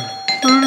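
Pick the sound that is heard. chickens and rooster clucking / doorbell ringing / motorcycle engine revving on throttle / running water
doorbell ringing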